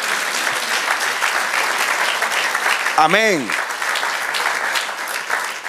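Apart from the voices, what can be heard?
church congregation applause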